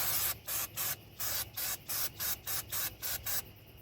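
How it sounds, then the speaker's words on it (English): Brake cleaner is sprayed onto a brake pad of a 2005 Chrysler Town and Country in about a dozen short, sharp hissing bursts in quick, even rhythm, close to the microphone with nothing else heard. "This is where you're going to want to spray your brake pad down"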